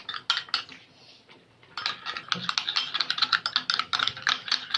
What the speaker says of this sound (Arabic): كنحركوا مزيان تنسجموا جميع العناصر اللي ضفنا